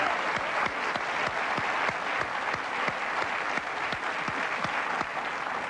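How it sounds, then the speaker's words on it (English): A television talk-show studio audience applauds an interview guest, with dense, steady clapping from a crowd of many hands, loud and continuous throughout without any voices. "Give him a round of applause"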